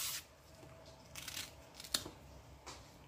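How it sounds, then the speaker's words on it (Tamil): Outer skin of a green plantain being peeled off by hand, heard as a few quiet, brief tearing and crackling strips spaced across a soft, otherwise still background. "நாங்கள் மெதுவாக கொஞ்சமாக இப்படி மேலால் இழுக்க இந்த மேல் தோலை நாங்கள் அப்படியே எடுத்துக்கணும்."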